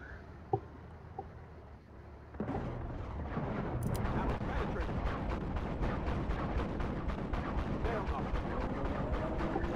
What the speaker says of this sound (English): these autoloaders just have rates of fire that are insane